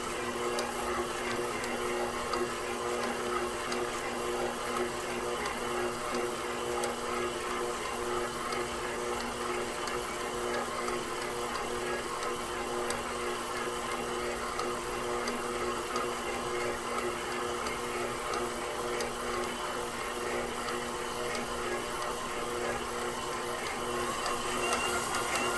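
A KitchenAid Professional 6000 HD stand mixer with a DC motor kneads bread dough with its dough hook, giving a continuous, even motor whir with faint rhythmic churning close by.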